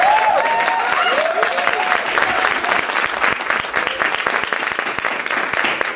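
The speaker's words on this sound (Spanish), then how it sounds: "vamos a darnos un aplauso cumbiambero" Steady, loud applause fills a cumbia talk and dance gathering in Bogotá, dense clapping from a large audience with scattered whoops and voices mixed in, holding strong throughout.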